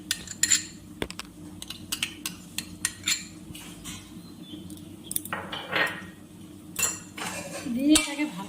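While garam masala and ghee go into a pot of Gobindobhog rice pulao, a metal spoon clinks and scrapes against the pot in irregular bursts, close and crisp, with short pauses between strikes.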